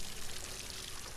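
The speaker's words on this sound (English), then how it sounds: "Yes, I am, chat. I am watering it." Water pours steadily onto plants in the Solarpunk video game, a continuous soft splashing hiss with no break.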